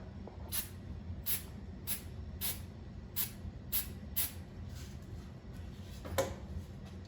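Short hissing sprays of glue for joining trim and baseboard joints repeat at a steady pace, about seven quick bursts, then fading softer puffs, close by in a quiet room.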